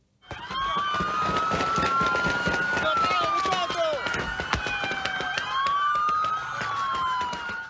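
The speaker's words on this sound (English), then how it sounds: "Just terrifying sounds there as police shot it out with two alleged armed robbers" Loud wailing police sirens sweep up and down continuously, with sharp cracks of gunfire scattered throughout and voices shouting underneath, during a shootout ending a police chase on a busy highway near Miami.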